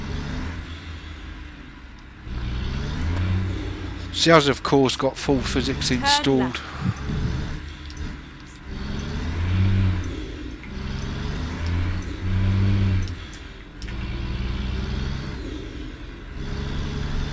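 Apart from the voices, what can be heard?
truck accelerating in American Truck Simulator video game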